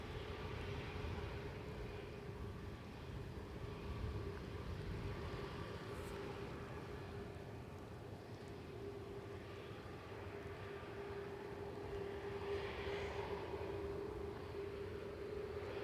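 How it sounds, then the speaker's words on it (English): A Boeing 737-900 arriving from Tel Aviv at Schiphol's Polderbaan runway produces a faint, steady distant engine drone with a constant tonal hum, sustained evenly without talk. "This is OO flight 337 arriving from Tel Aviv, 737-900."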